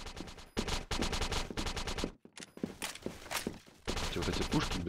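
Rapid automatic gunfire in a competitive CrossFire match bursts loudly in long sustained volleys, breaking off briefly before resuming, with game effects mixed in.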